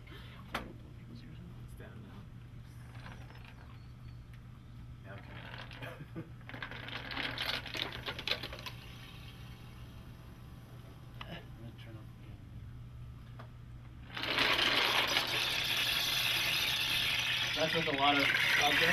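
A digital rainstick loaded with many objects gives dense, scattered rattling and clicking, like small pieces tumbling, in uneven bursts. It swells into a louder, fuller clatter toward the end.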